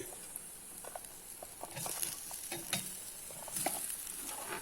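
Pieces of tapioca stirred in a pan for kappa upma, soft scraping and light patter of the spoon with faint sizzling underneath, close and quiet, no voices.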